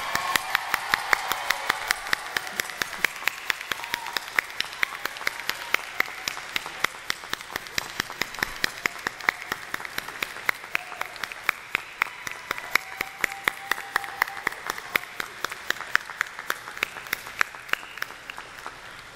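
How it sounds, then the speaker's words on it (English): Audience applauds the first group of graduates at a 2010 YWCA GED graduation ceremony. Steady, dense clapping from many hands lasts throughout, fairly close and with no speech over it. "Let's give this first group of graduates a round of applause."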